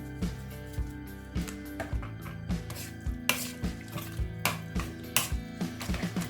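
Chana chaat is mixed in a bowl with a spoon that clinks and scrapes in a steady rhythm of close taps, over a soft tonal background.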